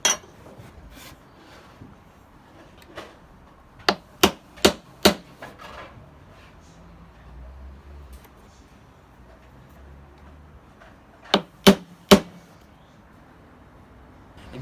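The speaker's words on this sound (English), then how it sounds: "then I take the nail punch and drove every nail under the surface" Hammer striking a nail punch to drive nails below the surface of wood while building a light fixture: a quick run of four sharp, ringing blows, then a quiet gap, then three more.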